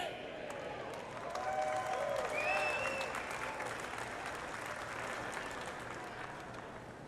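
A large grandstand crowd at a NASCAR Xfinity Series race at the Indianapolis Brickyard applauds and cheers after a prayer, a broad sustained roar of clapping with a few whistles, fairly distant, with faint talk underneath.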